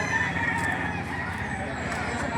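Roosters crow repeatedly at a busy chicken market, several loud drawn-out calls overlapping with clucking fowl and faint background voices.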